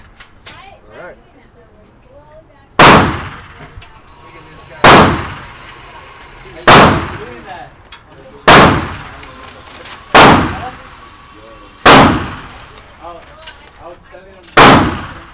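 Gunshots from a 300 Blackout AR pistol fired outdoors at targets, seven loud, sharp blasts spaced about two seconds apart, each with a trailing echo, and faint talk between shots.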